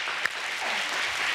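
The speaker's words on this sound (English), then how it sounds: "I want you to put your hands together in this studio for Sonya McGuire" Studio audience applause at a gospel praise television show, a short, fairly faint stretch of steady clapping with one sharper clap early on.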